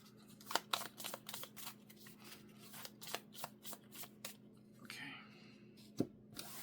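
Game cards being shuffled by hand in a quiet room, a rapid run of riffling and flicking bursts that slows to a few separate taps near the end, close and clear with no voices.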